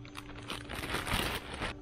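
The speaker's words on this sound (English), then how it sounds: "into a plastic bag they go" Crinkling plastic bag, a soft continuous rustle with crackly bursts lasting under two seconds, close by, over a steady low hum.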